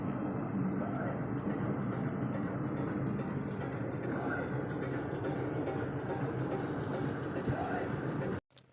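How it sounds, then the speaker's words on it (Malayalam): A train rumbles steadily past a closed railway level-crossing gate, a loud, continuous low roar of wheels and carriages lasting several seconds before cutting off abruptly. "മിക്കവാറും ഒരു 2 ട്രെയിനെങ്കിലും പോവും കുറഞ്ഞത്."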